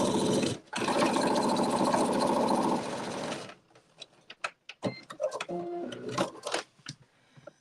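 A home sewing machine top-stitching garment seams runs in a fast, even mechanical whir for about three seconds, then stops, leaving soft clicks and fabric-handling taps close by.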